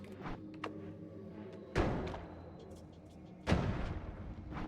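A wand fires in the Noita video game, giving two loud, sudden blasts about two seconds apart, each fading into a rumbling tail over a steady low background hum.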